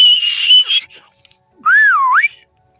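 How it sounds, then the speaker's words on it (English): A person whistles nearby, one held note followed by a pause and then a swooping, rising-and-falling phrase, loud and clear with no other sound. "all I do is basically start whistling and go"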